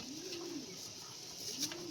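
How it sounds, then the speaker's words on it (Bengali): A male Andhra pigeon coos in soft, low, repeated phrases, one rolling call near the start and another toward the end, close by over a steady hiss. "নরের কোয়ালিটি দেখো, অরিজিনাল আন্ধ্রা পায়রা"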